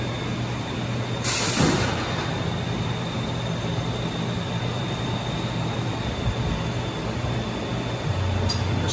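Roller coaster trains are moved and switched on the track at an amusement park, a steady mechanical rumble with a hissing burst like air brakes early on and a few faint clanks, no speech.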